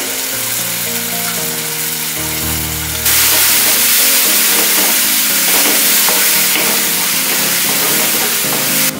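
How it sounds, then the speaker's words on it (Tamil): Ground paste sizzles loudly in a pan with sautéed spring onion and onion for a bachelor-style Chinese egg dish, a steady frying hiss that jumps louder partway through as it is stirred, close and with no talking. "ஸ்ப்ரிங் ஆனியனும் வெங்காயமும் நல்லா வதக்கிடுச்சுங்க இந்த ஸ்டேஜில் நம்ம அரைச்சி வச்ச இந்த விழுது"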